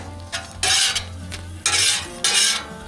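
A spoon stirs and scrapes in a pot while pasta boils beside pork ragu at an outdoor camp kitchen on the Mojave Trail, in three bursts of rasping stirring over a low simmer.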